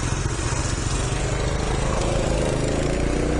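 A small motorbike engine runs close by in a steady, loud, buzzy drone with a rapid pulsing rhythm, alone without talk.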